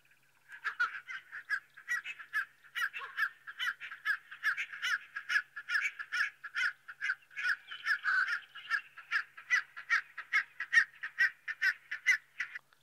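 A purple roller, the largest roller species, calling in the wild: a long series of harsh, rhythmic cawing notes repeated steadily about twice a second, clear and moderately close, with no talk.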